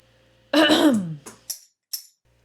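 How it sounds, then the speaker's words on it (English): One loud, rough cough through an open mouth, then a few quick, breathy exhalations, close to the listener. "coughing through an open mouth."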